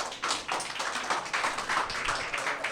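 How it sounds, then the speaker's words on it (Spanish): A church congregation applauds, a burst of scattered hand clapping lasting a few seconds, moderately faint, with no talk over it. "Den un aplauso al Señor"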